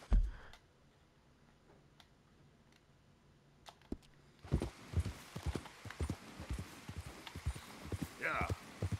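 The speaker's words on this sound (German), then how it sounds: "Wo reitet der Gaul hin?" Horse hooves clip-clop in a steady rhythm during riding in the Red Dead Redemption 2 game, coming in partway through after a few scattered clicks and continuing close and clear, with some talking near the end.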